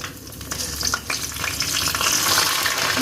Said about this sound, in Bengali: এবার আমি ডালটা ধুয়ে নিয়েছি নিয়ে ওইভাবেই ভেজে নেব